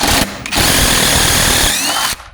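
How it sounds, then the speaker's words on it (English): A DeWalt power drill runs hard, backing a recessed Torx bolt out of a Redmax blower fan housing: a loud, steady whine that cuts out briefly near the start, then resumes and holds for nearly two seconds before stopping. "So we're gonna switch to the DeWalt."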